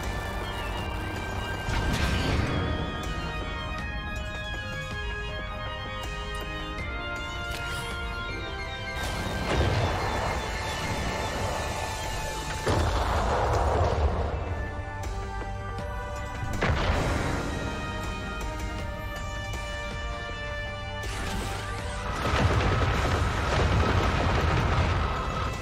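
Superlaser firing in the space strategy game Worbital, heard as several heavy booming blasts that swell and fade over a steady bed of game music.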